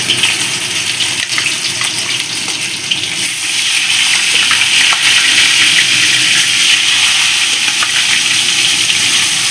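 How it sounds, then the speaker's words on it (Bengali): Katla fish being washed under a running tap, a steady loud gush of water that carries on unbroken, close up, with no voices. "মাছগুলো ধুয়ে নেবো"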